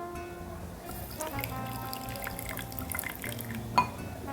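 About 100 ml of water is poured over chia seeds to soak them, a soft close trickle and splash with scattered drips.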